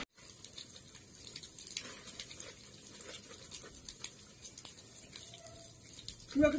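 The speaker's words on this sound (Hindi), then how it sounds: "तो ये देखो पानी यहाँ से बाहर, अब ये खाली हो जाएगा" Hot water flows out and drains steadily in a faint, low trickle with light splashing, ending in a brief louder gurgle, as voices murmur in the background.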